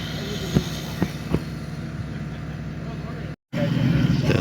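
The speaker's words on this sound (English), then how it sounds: "We're coming in for a landing." An aircraft on landing approach, a steady broad engine and wind roar with a few sharp thumps, ending in a brief cut before a louder rush of noise.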